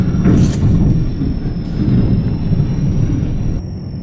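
A train rumbles along in the video game Metro 2033, a loud, steady low roar of wheels on rails with a faint high squeal on top, continuing throughout without talk.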